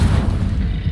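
Spell-casting effects from the Hogwarts Legacy video game roll out as a loud, dense, continuous booming rumble with blasts layered closely together and no voices.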